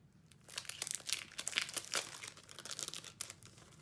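Crinkly plastic packaging around sheets of vellum word stickers is opened close up, with bursts of crumpling and light tearing coming in uneven, rapid rustles.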